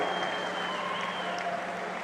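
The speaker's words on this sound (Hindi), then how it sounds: "अपने स्थान पर खड़ा होकर जोर से ताली बजाकर धन्यवाद करिए" A crowd claps at a BJP political rally in Nizamabad, Telangana, a dense, steady wash of applause filling the whole stretch without clear breaks.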